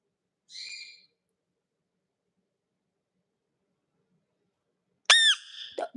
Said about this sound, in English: A bird's upstairs right now being loud, which is triggering him to be loud.